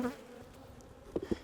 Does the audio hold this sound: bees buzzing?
yes